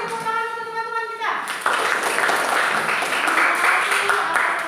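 A classroom audience claps for classmates after their presentation, a short burst of dense applause rising after a voice speaks.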